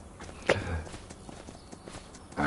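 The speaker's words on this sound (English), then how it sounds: "These are our actual two horses that work" Hooves of working horses clip-clop in Farming Simulator 25, a few hollow knocks at a walking pace, moderately close over a faint continuous background hum.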